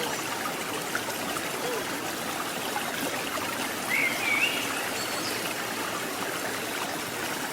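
Watu Ondo waterfall flowing gently after several dry days, a steady broadband water rush with trickling texture, distant and continuous, with a faint bird chirp partway through.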